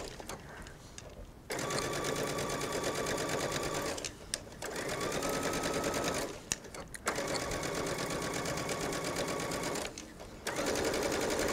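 Sewing machine stitching twill tape onto the bottom of an unlined jacket, running in four fast, steady bursts separated by short pauses.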